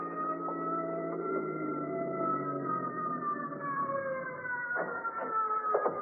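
An approaching ambulance siren in an old-time radio drama, a steady wailing tone that holds loud and continuous with slowly shifting pitch, with no talk over it.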